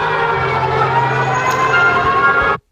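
A loud, steady emergency alert siren holds a dense, sustained wail for a couple of seconds before cutting off abruptly; no voices are heard.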